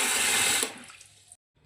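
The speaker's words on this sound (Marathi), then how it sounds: "बघा, छान पद्धतीने आपण हा गहू 2 ते 3 पाण्याने धुवून घेऊया." Water splashes and rushes over wheat grains being rinsed, loud and close for about a second, then fades and stops abruptly.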